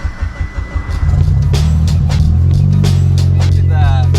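A car engine cranks in short bursts, then catches and settles into a loud, steady idle with some revving, right after a fuel pump repair; voices talk over it.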